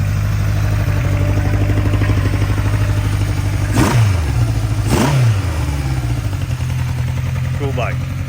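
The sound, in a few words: Honda CB750 Four K6 motorcycle engine revving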